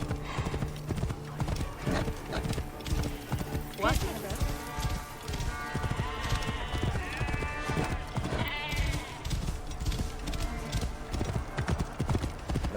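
Horse hooves gallop in the video game Assassin's Creed Origins, a steady, close clip-clop running throughout with a brief whinny and outdoor game ambience, while someone talks over it at times.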